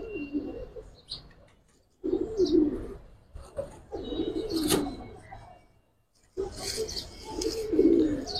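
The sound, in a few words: high flyer pigeons cooing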